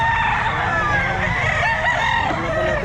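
A young rooster (bull stag) crowing at a busy pet market, loud and close over a dense background of other fowl clucking and crowing, with people talking nearby.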